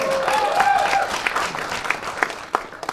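A stand-up comedy audience breaks into dense, sustained applause that thins into scattered claps toward the end.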